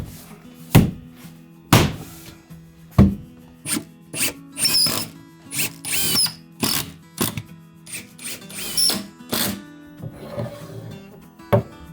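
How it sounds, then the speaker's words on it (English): Screws being driven into a wooden shelf frame through a notch cut for the shelves, heard as a series of sharp thunks and short rasping bursts at a steady, irregular pace, close and fairly loud with no talking. "I secure it from the notch I made for the shelves with screws"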